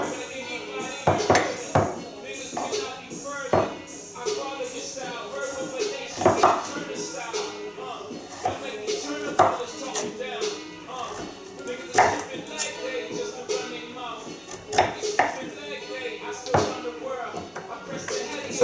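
A knife cuts a rutabaga into fry-shaped sticks on a cutting board, giving repeated sharp chops and taps at an uneven pace while a person talks over them.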